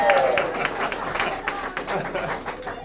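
A crowd at a preschool learning center grand opening applauds steadily, with many hands clapping at moderate distance, a brief tone and some voices mixed in.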